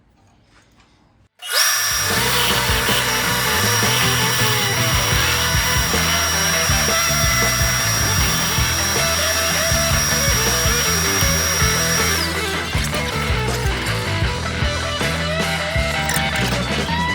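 A wood lathe spins a spalted pecan bowl held in a Longworth-style chuck while a tool cuts off the tenon. The steady, loud whirring grind starts abruptly after a short quiet moment and holds without a break, with no talking.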